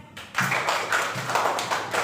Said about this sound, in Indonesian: Tepuk tangan untuk Adias.